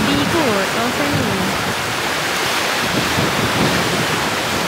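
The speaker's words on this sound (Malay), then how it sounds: "Hujan lebat." Heavy rain pours down steadily near the sea in Satun, a dense, loud hiss that fills the whole clip; a voice is briefly heard early on.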